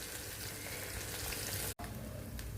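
Ground masala paste hitting hot oil sizzles loudly and continuously, with a dense crackling hiss and a brief cut in the sound partway through.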